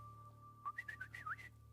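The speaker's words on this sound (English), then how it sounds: "Answer by a whistle, like this." A person whistles a short melodic phrase of about six quick rising and falling notes, clear and close, with a steady low hum and a faint constant tone in the background.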